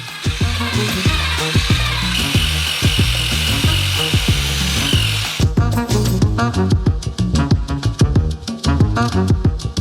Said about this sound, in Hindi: एक कंस्ट्रक्शन मिक्सर से हम मिश्रण करेंगे।